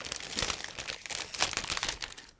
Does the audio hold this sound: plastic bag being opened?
yes